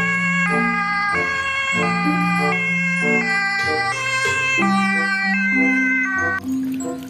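A toy ambulance siren plays a bright, electronic two-tone wail, cycling through repeated stepped notes, loud and close.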